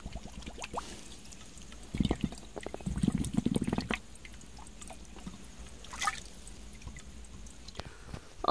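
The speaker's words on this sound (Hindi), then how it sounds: "वाओ, बूंद बूंद करके आ रहा है।" Water drips drop by drop from a natural spring source outdoors, faint scattered drips and small splashes with a few louder trickling bursts, heard close amid quiet surroundings.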